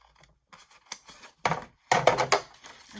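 Scissors cut through notebook cover material for a traveler's junk journal in a few short, close snips that grow louder and denser toward the end, with near silence between cuts.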